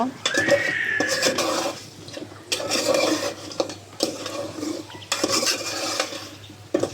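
A pot of country chicken and bottle gourd curry is stirred, with repeated scraping and clattering bursts against the pot separated by short quieter gaps.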